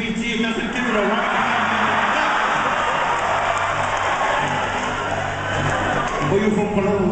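An audience claps at a Laughing Samoans live comedy show, a dense, steady wash of applause filling most of the stretch with scattered cheers, whoops and chuckles, and voices mixed in near the start and end.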